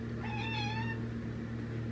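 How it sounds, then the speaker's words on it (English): A house cat meows once indoors, a short rising-and-falling call heard close over a steady low electrical hum. "You might hear my cat coming in."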